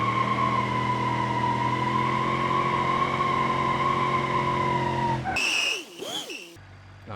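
Car tires skidding and sliding while drifting in BeamNG.drive, a steady loud engine drone for about five seconds, then brief squealing tire screeches near the end.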